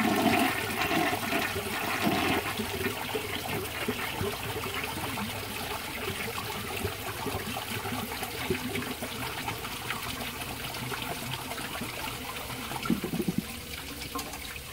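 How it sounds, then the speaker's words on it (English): Flush of a 1955 CP.CO toilet with a broken base that barely flushes, taking the whole tank to siphon: a long, steady rush of swirling water and gurgling drainage, close and continuous with no talk. "this toilet will hardly flush a washcloth. I'll show you. It takes the whole tank to get it to siphon out."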